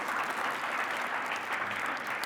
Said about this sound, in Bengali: আমরা যেটা করতে পারি সেটা হচ্ছে জোরে একটা তালি দিতে পারি আমাদের এই ডিরেক্টরকে